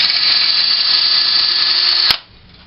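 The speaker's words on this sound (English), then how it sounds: "drilled our holes for our adjustable shelf pins" A power drill spins at a steady high whine while boring holes in wood for adjustable shelf pins on a closet system, loud and close, stopping abruptly with a click after about two seconds.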